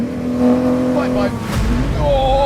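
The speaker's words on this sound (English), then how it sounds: "Wow, that Porsche's fast." A Porsche accelerating, its engine note rising and shifting pitch as it pulls away, loud and close, with people talking over it.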